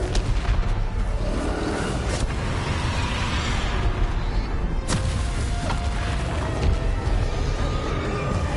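Confringo explosive spell blasts in the Hogwarts Legacy video game boom repeatedly over a dense, continuous roar of combat noise, with a few sharp cracking impacts standing out near the middle.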